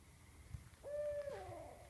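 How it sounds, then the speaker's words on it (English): A single drawn-out barred owl hoot at night, steady and slightly falling at the end, sounding moderately distant against faint outdoor background noise. "Big barred owl."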